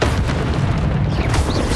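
Confringo, an explosive spell in the Hogwarts Legacy video game, goes off as a loud, low boom with a burst of crackle, a single blast rumbling briefly.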